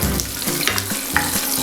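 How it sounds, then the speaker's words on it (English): Makhana (fox nuts) frying in well-heated oil, a close, loud sizzle with rhythmic stirring strokes repeating about every quarter second. "Now we add the makhanas, the foxnuts. Give them a nice stir."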